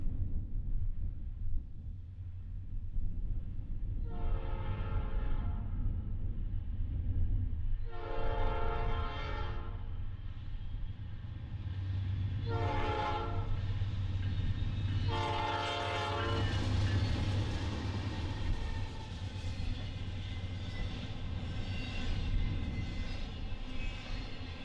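A Norfolk Southern freight train runs on the open Chicago Line mainline west of Butler, sounding four long, loud horn blasts over a steady low rumble of passing railcars, with no voices.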